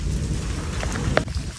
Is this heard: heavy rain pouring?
yes